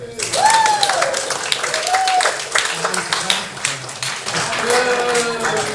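An audience at a comedy show claps in a short, scattered round while the comic keeps talking over it.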